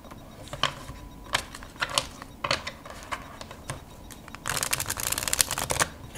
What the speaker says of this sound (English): it shuffles nicely.